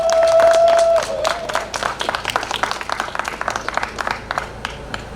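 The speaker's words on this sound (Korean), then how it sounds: "박수 한번 부탁드리겠습니다" Audience applause at an outdoor election campaign rally in Hamyang, a busy patter of many hands clapping together, with a sustained tone fading at the start, and no clear speech over it.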